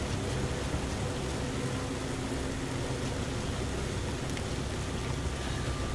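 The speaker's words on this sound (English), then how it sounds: "it's raining. Really strong raining, actually." Heavy rain in the video game Nioh, a steady, dense broadband hiss that holds at an even level throughout with no breaks and no voices.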